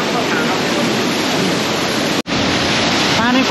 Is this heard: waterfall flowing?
yes